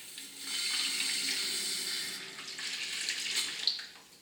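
A kitchen mixer tap runs hot water in a steady hissing stream into a sink, close by, swelling and easing slightly over a few seconds.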